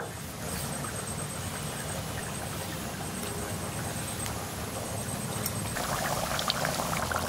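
Chicken curry made with country rooster and papaya bubbles at a steady, close boil while ground garam masala paste is stirred in, giving a continuous frothy simmer with no talk.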